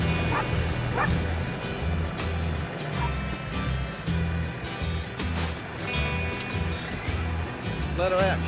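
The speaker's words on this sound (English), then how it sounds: "there might be a little doggy sitting in it." Small dog sitting in a ute in the outback, barking and yipping repeatedly over a low rumbling engine drone, with a few sharper high yelps toward the end.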